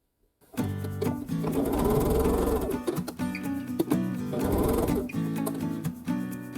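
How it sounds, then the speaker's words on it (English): A sewing machine stitches a quilt block seam in two close bursts of rapid mechanical whirring and clatter, separated by a brief pause, with no voices. "And then sew the other longer seam together."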